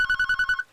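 A telephone rings in a short burst of rapid electronic trills, six quick pulses that are loud and close, then stop with nothing else heard.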